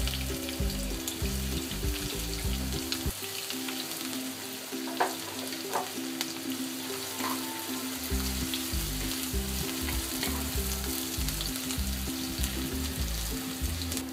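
Onions fry in hot oil in a pan for a prawn bhuna, giving a loud, even sizzle that holds without a break, with a low hum underneath.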